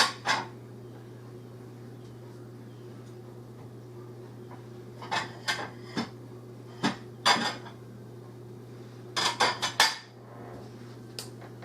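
A bowl or plate is pulled out in a home kitchen during cooking of a cheesy one-pot pasta and meat meal: a few sharp ceramic clinks and clatters, in scattered pairs and a final cluster, over a steady low hum.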